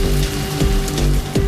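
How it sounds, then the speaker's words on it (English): Torrential rain over the Theban hills pours down as a dense, steady hiss of drops hitting the ground, loud and continuous, with no talking. "the moisture is dropped as torrential rain."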